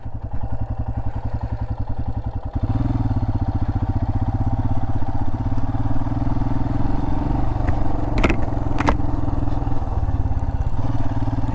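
A motorcycle rides a canyon jeep trail through Pinkham Canyon, Joshua Tree, its engine a close, loud, rapid pulsing drone that shifts pitch after a couple of seconds and then holds steady, with a few sharp clacks late on.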